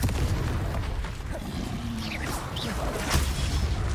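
A Confringo fire spell bursts in Hogwarts Legacy with a dense low boom and roaring rumble, sweeping whooshes over a steady crackling blaze for several seconds, fairly quiet overall.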